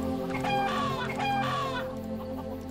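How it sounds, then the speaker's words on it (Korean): A chicken clucks in the video game Neverwinter Nights: a couple of close, clear squawking clucks over a steady droning game background, then it falls quiet. "닭이다."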